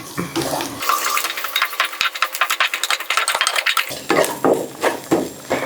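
Chopped coriander and mint leaves being sautéed in a pan, with repeated clinks and scrapes of a spoon against metal over a soft sizzle, close and fairly loud, no talk.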